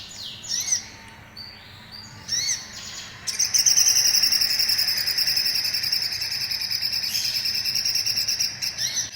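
Caged songbird, a kept bird being trained for song, chirps in short bursts before launching into a loud, continuous high trilling song that fills the rest of the clip close to the microphone, with no talk.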